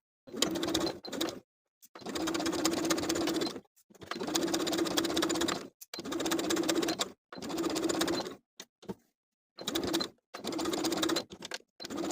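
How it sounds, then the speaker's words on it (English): A sewing machine runs in repeated bursts of a second or two, separated by short pauses, as it top stitches elastic along the main seam of a bralette, close and clear. "sewing on top of the main fabric right along the main seam, catching that elastic as I go"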